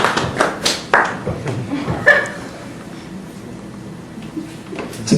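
A few scattered claps from a comedy audience voting by applause, fading out within about two seconds and followed by quiet room noise and light chuckling.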